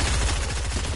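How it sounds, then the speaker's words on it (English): Rapid automatic gunfire in Fortnite's Winterfest mode, a dense, loud, continuous burst of shots lasting under a second. "Someone's trying to hit me with a gun."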